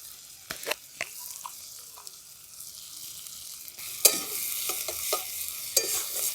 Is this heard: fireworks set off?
no